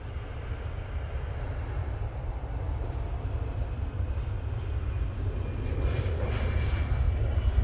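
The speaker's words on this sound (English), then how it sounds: "I'm going to get this EasyJet and see if I can get the touchdown straight after." An EasyJet airliner landing at Manchester Airport, a steady low engine rumble heard from a distance that swells gradually toward the end of the clip, with no voices present.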